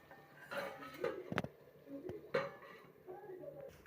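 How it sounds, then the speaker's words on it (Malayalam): Metal lid set down onto a cooking pot of mango curry, a few sharp clanks and knocks of metal on metal close by, with some light kitchen clatter around them. "നമുക്കതൊന്ന് മൂടി വെച്ച് കൊടുക്കാം"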